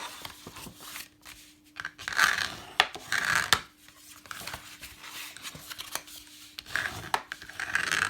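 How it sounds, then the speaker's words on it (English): Cardstock for an Easter triangular treat box is burnished with repeated back-and-forth rubbing strokes, soft and close, arriving in short scraping bursts separated by brief pauses. "All right, that's it for the burnishing."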